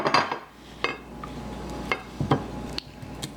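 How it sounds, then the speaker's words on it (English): A knife chops an onion on a cutting board in a few separate, sharp knocks at an uneven pace, close by and fairly quiet. "Again, I'm chopping it down in thirds"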